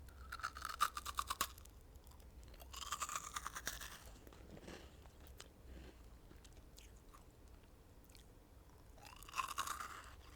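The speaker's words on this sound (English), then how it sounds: "It feels like you're crunching into like an Utz cheese ball. but then it's sweet and you can taste Jolly Rancher." Crunching and chewing of a sweet candy with a crisp, cheese-ball-like texture, heard close up in short bursts of crisp bites, with quieter chewing between them.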